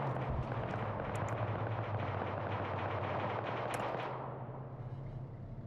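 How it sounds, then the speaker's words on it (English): Rapid bursts of gunfire crackle continuously through a video game battle, dense and loud at first, then thinning and quieting over the last second or so. "Hearing some more gunfire going out."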